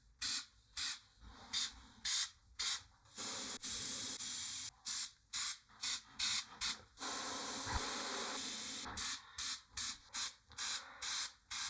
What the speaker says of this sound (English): then I'll get started with another layer of airbrushing